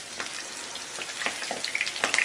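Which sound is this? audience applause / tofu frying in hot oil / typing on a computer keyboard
tofu frying in hot oil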